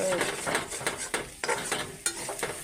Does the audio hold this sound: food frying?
yes